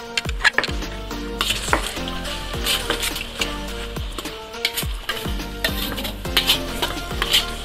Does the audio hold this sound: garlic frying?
yes